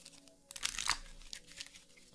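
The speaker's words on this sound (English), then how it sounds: "We'll shuffle this in real quick." Playing cards are shuffled quickly for a Valkyrie deck in a tabletop card game, giving a soft papery riffle and crinkle that swells in the middle before trailing into faint rustling.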